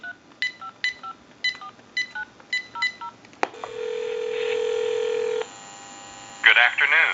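A GE 6.0 cordless telephone dials a time-and-temperature number with a quick run of touch-tone beeps, then a steady tone holds for a couple of seconds before a short ringback-like burst.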